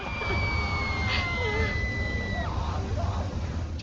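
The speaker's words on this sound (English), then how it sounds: "That scream sound effect." A loud yelling scream sound effect comes from a YouTube video playing in the background, a strained, drawn-out cry over dense noise that lasts for several seconds.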